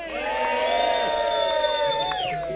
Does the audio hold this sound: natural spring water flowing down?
no